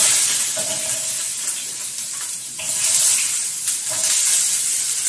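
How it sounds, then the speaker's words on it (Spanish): Paprika, garlic, onion, tomato, beet and a spoonful of adobo sautéing in a pan for a lentil burger stew, giving a steady close hiss and sizzle that swells midway and holds, with no talking. "vamos a sofreír entonces el pimentón, el ajo, la cebolla cabezona, el tomate, la remolacha y la cucharada de adobo"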